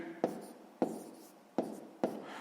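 A pen scratches out a column multiplication by hand for sixth-grade maths, four short scraping strokes landing at uneven intervals, close and quiet.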